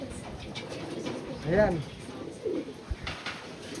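Racing pigeons give a single brief coo in the middle, heard among faint outdoor background and someone talking.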